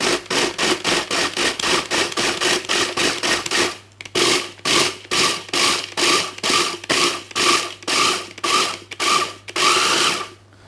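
A food processor pulses cheesecake ingredients in about twenty short, loud, regular whirring bursts with brief gaps between them, close and alone with no talk.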